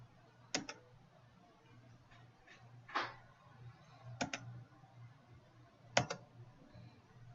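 Quiet computer mouse clicks while configuring libraries in Windows 10, four or five sharp isolated clicks spaced a second or two apart over faint room hum, with no talk.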